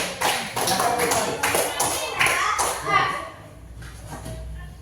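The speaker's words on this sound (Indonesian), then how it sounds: "Kasih tepuk tangan dulu." Children in a classroom break into a short burst of brisk clapping mixed with young voices, loud and close for about three seconds before fading to quiet.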